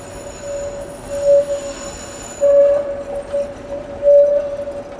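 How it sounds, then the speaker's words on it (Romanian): Tram wheels squealing on a curve: a sustained, steady high-pitched screech that swells louder three times over rumbling rail noise, close by, with no talking. "acum 40 de ani, tramvaiul ăsta așa s-auzea"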